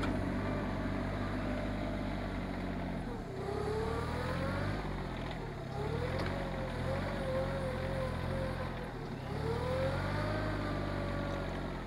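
A Rural King RK24 subcompact tractor engine runs steadily nearby, fitted with a mower deck and front bucket, its pitch rising and falling a few times as it revs under load.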